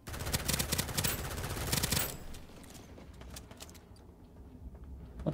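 A turret in the Starsiege video game fires bursts of rapid, crackling gunfire for about two seconds, then settles into quieter scattered pops and rumble.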